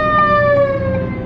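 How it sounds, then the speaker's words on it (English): An ambulance siren passes on a street, its loud sustained wail steady throughout with rumbling traffic underneath, including a truck going by. "Like the truck just went in front of the ambulance."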